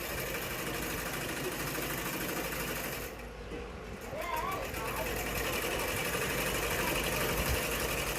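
A sewing machine stitches a blouse, running in a steady fast whirring drone for most of the stretch with a short pause midway, close and fairly quiet, with faint talk underneath.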